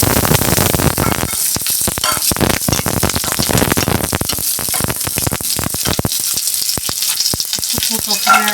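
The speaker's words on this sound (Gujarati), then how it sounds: "એમાં આપણે તેલ મૂકીશું. એમાં આપણે ડુંગળી એડ" Onion dropping into hot oil for a green masala for misal pav, a loud, dense crackling sizzle with rapid popping bursts throughout, close and continuous.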